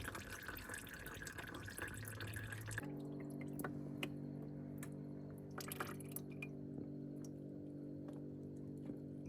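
Warm used engine oil drips from a Zonsen Carrera 300 motorcycle during an oil change, faint scattered drips and small squishy splashes over a low steady hum, close and quiet, without talking.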